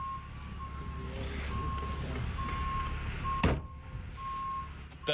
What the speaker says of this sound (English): He was trying to slowly back up his truck.